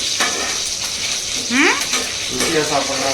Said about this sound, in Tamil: இது என்ன நல்லா வதக்கி போடணுமா?